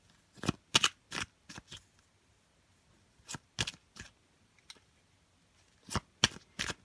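Oracle cards being shuffled by hand, close and crisp riffling bursts in three quick groups separated by short quiet pauses.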